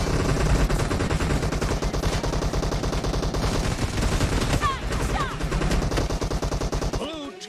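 Rapid bursts of gunfire from a PUBG Mobile match ring out in dense, repeated volleys for several seconds, loud and close, with a short lull before the shooting resumes.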